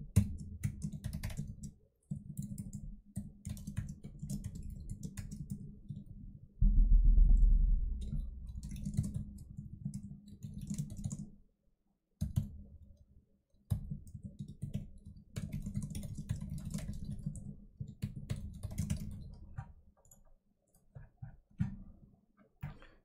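Computer keyboard typing in bursts of quiet clicks and taps, close by, with short pauses between runs of keystrokes and no voices.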